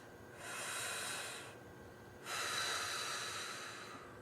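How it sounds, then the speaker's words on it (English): Two slow, deep diaphragmatic breaths, heard close and quiet: a long airy inhale, a short pause, then a second drawn-out breath of steady hiss. "And here's a deep diaphragmatic breath."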